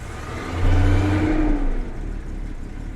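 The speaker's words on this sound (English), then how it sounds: "I'm gonna let it run for a couple minutes and we'll see what it's like" Jaguar XJ6 engine with Stromberg carburettors idling after a choke adjustment: a loud, close, steady running drone that swells briefly in revs and pitch before settling back to a constant idle.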